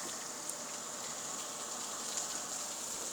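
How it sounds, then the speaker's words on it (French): Steady rain patters against a window pane during a violent spring thunderstorm with sleet in Carpentras, Vaucluse, as a continuous dense hiss with no voices. "il pleut plus, je crois, sur la vitre. Si, encore un peu"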